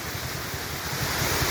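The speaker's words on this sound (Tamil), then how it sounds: "இங்கே ஒரு சின்ன அருவி தோன்றிருக்கு." A small waterfall on a hillside near a river in the Chitteri hills rushes in a steady, continuous broadband roar, close and fairly loud, with no voices over it.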